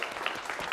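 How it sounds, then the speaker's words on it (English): Brief burst of audience clapping at a live business presentation, dense and steady with no break, lasting under a second. "can I get a clap for that?"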